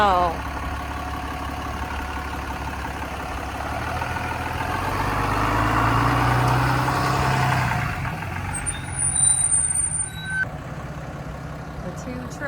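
Two trucks idle side by side outdoors with a steady low diesel rumble that swells midway, followed by a brief sharp hiss like an air brake release, while people talk nearby.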